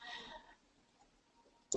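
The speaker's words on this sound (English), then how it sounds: "I'm going to deselect it by clicking" Computer mouse clicks while deselecting a shape during a card-making craft session: a short burst of near, crisp clicks at the very end, after a brief stretch of faint sound and near silence.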